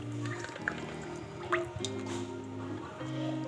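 Cooking oil is poured into a pan on a stove over low heat, soft liquid drips and splashes over a steady low background hum.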